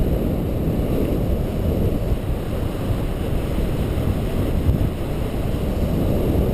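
Strong east wind during a paraglider landing, a constant heavy roar of gusts buffeting the microphone, loud and unbroken throughout with no clear voices.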